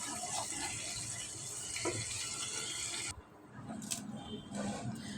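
Tap water running steadily into a sink while hilsa fish are washed, a close hissing flow that cuts off partway, followed by softer splashes and drips.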